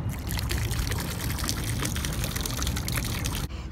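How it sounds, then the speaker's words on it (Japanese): Irohas bottled water is poured from the bottle into a river, making a continuous splashing, trickling rush that holds steady for several seconds before stopping abruptly. "このイロハスをこの川に流してやるよ。"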